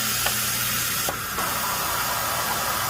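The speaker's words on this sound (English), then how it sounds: "The air assist is on, and it is sucked up tight as it can be to that nozzle." Air assist on an xTool D1 laser engraver blows steadily at the nozzle, a constant close hiss with a low hum underneath and a few faint clicks.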